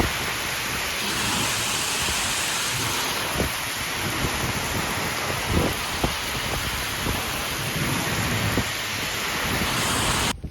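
Heavy rain pours down steadily with water running off roof drainspouts, a dense continuous wash with a few dull knocks scattered through it.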